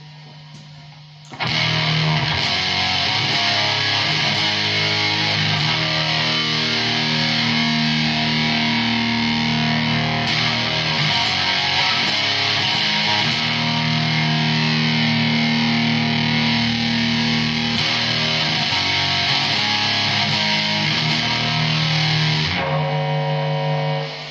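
Electric guitar played through a boutique handmade Smitty Bender Pro Mk2 germanium Tone Bender-style fuzz pedal, a thick, saturated, sustained fuzz tone ringing loud and steady for over twenty seconds, starting abruptly and ending with a brief decay.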